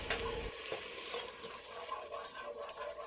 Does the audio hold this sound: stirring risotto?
yes